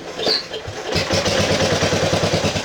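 A 1968 Bolens EK-10 Estate Keeper tractor engine cranks briefly, then catches and settles into a loud, close, steady chugging idle.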